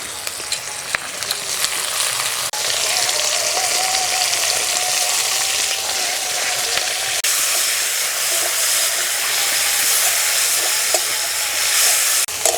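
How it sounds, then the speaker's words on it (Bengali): Small shrimp frying in a pan over low heat for a Bengali flat-bean and shrimp dish: a steady, close, bright sizzle with faint stirring, continuous throughout with no talking. "এবার উনুনের জাল কমিয়ে দিয়ে চিংড়ি মাছগুলো একটু ভেজে নেব।"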